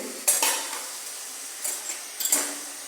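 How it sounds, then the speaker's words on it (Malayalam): Dried bitter gourd pieces for pickle being stirred in a frying pan, with a few short scraping, clinking spoon strokes over a faint sizzle, close and fairly quiet. "ഒരു കുറച്ച് നേരം ഇളക്കണം"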